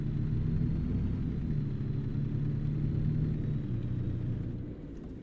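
A heavy truck hauling an aluminium flatbed double trailer in American Truck Simulator gives off a steady, loud low engine drone and rumble that holds throughout, then eases slightly in volume at the very end, with no voices.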